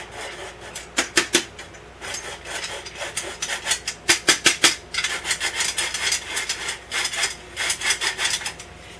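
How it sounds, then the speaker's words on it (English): Flour and spices sifted through a hand sifter for molasses cookie dough give a run of soft, raspy scraping strokes in quick bursts, close and fairly quiet with no talking. "Now we'll sift in the remaining flour and spices."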